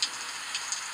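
Steady rain in the Mental Hospital 2 video game hisses as an even, bright wash, with a few sharper drop ticks. It is quiet and continuous, with no voices over it.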